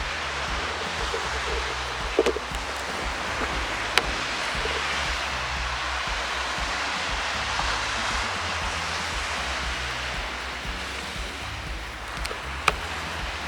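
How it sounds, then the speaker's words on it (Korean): Strong sea waves at Samcheok beach in Gangwon-do, heard as a steady broadband roar of surf with no clear breaks, close and fairly loud, with a few faint knocks and no talking. "강원도여서 그런지 파도가 좀 세요."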